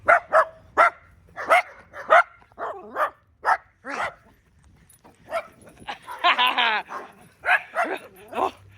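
Puppies bark in a run of short, sharp yaps, then whimper and whine in a high, wavering stretch before barking again; nearby and fairly loud.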